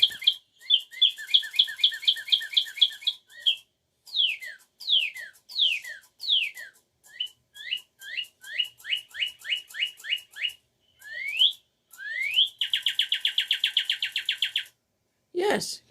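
A pet bird kept indoors chirps close by in a long, varied run of sharp, rapid tweets, rising whistles and trills that repeat in bursts with short pauses between.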